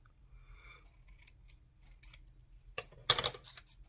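Scissors snip paper for a collage: a quiet run of light cuts, then two sharp, louder snips close by near the end, with no voices.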